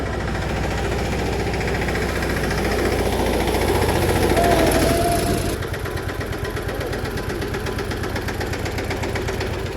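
Tractor engines idle at a groundnut mill, a loud, steady diesel chug with rapid knocking pulses that runs throughout, shifting slightly to a lighter rhythm partway through, close by with no talking.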